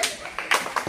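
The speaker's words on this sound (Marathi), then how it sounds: "आता ज्यांनी डोक्यावरती शेवटपर्यंत ज्यांचा पॅड राहिलाय त्यांच्यासाठी जोरात टाळ्या द्यायच्या आहेत" Schoolchildren at a school activity session clapping loudly, a few quick rounds of sharp, close hand claps in uneven bursts.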